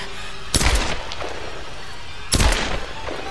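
Two heavy gunshot blasts about two seconds apart in the video game Tomb Raider, each with a broad cracking burst and short decaying tail over a steady game ambience, no talk.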